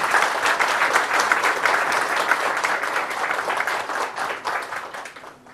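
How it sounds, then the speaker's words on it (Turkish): An audience at a televised song concert applauds the broadcast staff, steady close clapping from many hands that tapers off toward the end. "Onlar için sizden bir alkış rica ediyorum."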